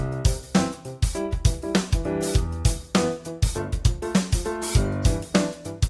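Funky EZkeys 2 keyboard chords stab over a steady EZdrummer 3 drum groove with punchy kicks and snares, a lively, repeating pattern played loud and up front.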